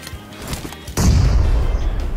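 A grenade goes off in PUBG Mobile with a sudden heavy boom partway through. A rumbling roar follows, after quieter rustling and faint shots before the blast.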